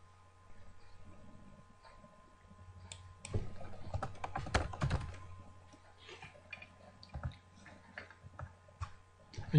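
A web address tapped out on a computer keyboard: quiet, irregular clicks in short bursts, with a denser flurry of keystrokes in the middle, close and alone over a faint low hum.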